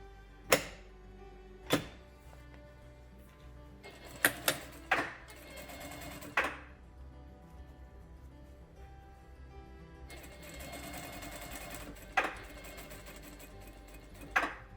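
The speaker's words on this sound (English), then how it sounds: "So now we got that top edge sewn." A sewing machine runs steadily as it stitches the seam of a homemade fabric face mask, with sharp clicks and knocks scattered between stretches of even motor hum, close up and without speech.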